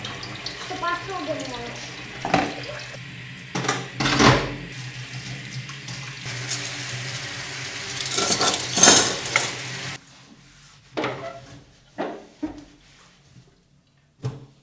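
Dishes are washed in a kitchen sink, with a running tap hissing steadily and cutlery and plates clinking close by. The water stops partway through, then intermittent clatter continues, with occasional voices in the room.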